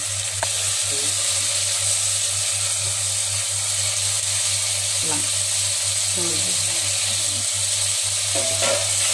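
Onions, mint and tomatoes sauté in a pan for seeraga samba chicken biryani, a loud continuous sizzle with occasional stirring scrapes throughout.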